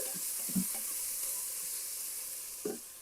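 Tomatoes go into dal cooking in an Instant Pot: a soft, steady sizzling hiss with a couple of brief low thuds, quiet and close.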